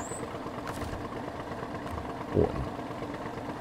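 A truck engine idling in the video game SnowRunner, on the Belozersk Glades map, a low, quiet, steady rumble with one brief swell near the end and a short spoken exclamation at the start.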